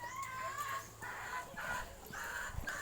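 Chicken clucking in short repeated bursts at a safari park in the Philippines, faint and somewhat distant, with quiet voices nearby.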